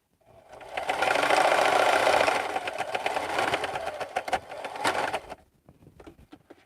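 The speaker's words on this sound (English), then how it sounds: "I'll sew my top pieces" A sewing machine stitches the top pieces of a cross-body bag in one steady, fairly close burst of running stitches, slowing and stopping near the end, followed by a few faint handling sounds.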